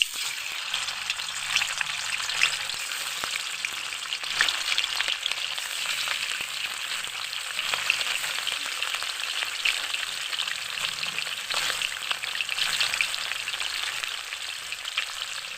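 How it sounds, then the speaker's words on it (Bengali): Rohu fish pieces frying in oil in a pan for a mustard rohu dish, a continuous even sizzle with fine crackling pops lasting throughout, close and moderately loud with no talk. "এখন 2 ভাগে আমি মাছগুলোকে ভেজে নেব।"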